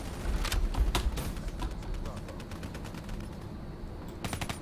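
Shotgun and weapon fire in multiplayer Call of Duty Black Ops 3, a series of sharp shots spaced through the stretch, with a cluster near the start and another near the end, over busy game noise.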